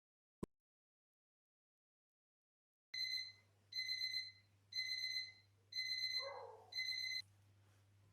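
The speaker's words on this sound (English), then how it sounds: "Just got an alarm call there from my kitchen alarm." After a single click and a pause, a kitchen timer beeps in five evenly spaced, shrill bursts over a low hum.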